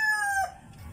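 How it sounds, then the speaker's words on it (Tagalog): A gamefowl rooster's crow, loud and close, its drawn-out final note trailing off into quiet background. "Yan o. Manok natin."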